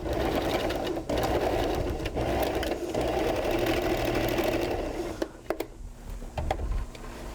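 A sewing machine runs in a steady, rapid whirr as it stitches fabric in a workshop, close and continuous, then slows and stops near the end with a few clicks and brief mechanical knocks.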